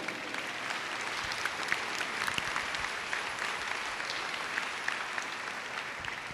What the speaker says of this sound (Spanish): ¿Alguien le da un aplauso a Jesús?